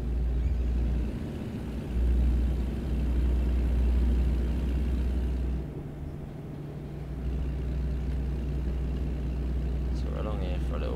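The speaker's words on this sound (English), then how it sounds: "My engine is quite noisy." Heavy truck engine in American Truck Simulator drones steadily with a strong low rumble throughout, dipping briefly midway before resuming, with rain noise in the game and people talking over it.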